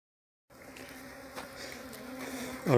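Honeybees buzzing at a hive during autumn colony care, a dense steady drone that starts after a brief silence and swells louder at the end as a bee passes close.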